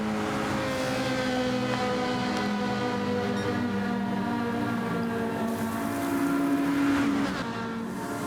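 Ferrari and Mazda race cars in a racing video game on a high-speed ring, a continuous harmonic engine drone that holds steady and then swells louder as the revs climb near the end.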